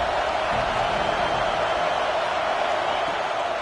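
College football stadium crowd at a Razorbacks game, a steady, loud wash of cheering and roar with no break, filling the whole moment.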